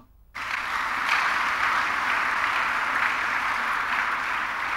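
A church congregation applauds after a sermon reading, with a sudden burst of clapping that holds loud and even, close and filling the room.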